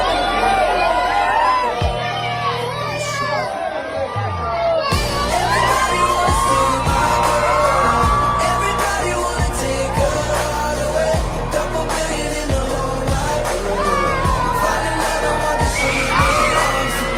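Sharp gunshots crack repeatedly near a crowd, a run of loud, evenly spaced bangs over steady background noise and scattered voices, with a yell or whoop rising among them.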